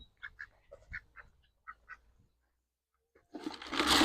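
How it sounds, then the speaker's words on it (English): Ducks and guinea fowl on a farm give a series of faint, scattered quacks and calls at a distance, followed by a silence and then a swell of broad rushing noise. "You guys can see the ducks and the guineas are hanging out"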